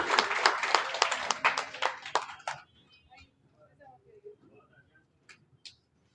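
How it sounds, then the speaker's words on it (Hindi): An audience at a mushaira poetry gathering claps loudly and steadily for a couple of seconds, the applause then breaking off into a quiet hall with a few scattered faint claps. "जोरदार तालियों से आप इस्तकबाल करेंगे।"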